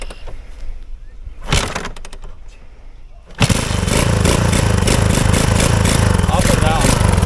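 A Honda 200X motorcycle engine, fresh from a timing chain replacement, catches after a few cranking bursts and settles into a loud, close, steady idle, with a voice heard briefly before it starts.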